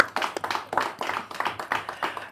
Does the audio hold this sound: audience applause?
yes